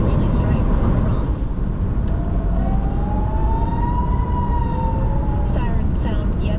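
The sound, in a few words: sirens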